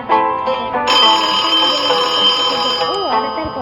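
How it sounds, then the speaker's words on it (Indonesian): A telephone rings in a cartoon scene, a sustained bright electronic trill with layered harmonic tones running steadily for several seconds, loud and close, with a brief rising chirp near the end. "Oh, ada telepon."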